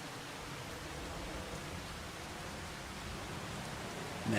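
Continuous soft rain hiss from the Farming Simulator 25 video game on the Aussie Nulla Creek map, an even, faint wash of falling water with no talking.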